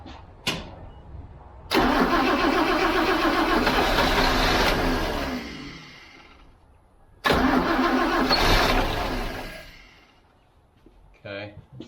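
A car engine cranks and fires in two separate attempts. Each catches and runs roughly for several seconds before fading out, loud and close, with a brief mechanical clatter at the end.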